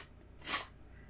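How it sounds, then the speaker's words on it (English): A single stifled sneeze bursts out close to the mic in a quiet room, one short, breathy, snorting blast that rises and fades within about a quarter second. "Tried to hold off that sneeze."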